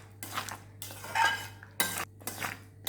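Stirring roasted cashews into pumpkin halwa in a pan, with a spoon scraping and clinking against the metal in several short, close bursts separated by brief pauses, no talk.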